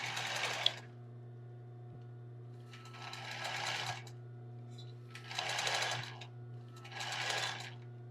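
Four short close bursts of a sewing machine backstitching on tulle and lace for a bra, with brief pauses between them over a steady low hum.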